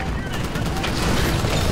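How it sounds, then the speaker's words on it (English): Gunfire in the video game Titanfall, a dense stretch of rapid shots blending into a steady loud rattle throughout, with game sounds layered beneath. "I just heard like gunshots."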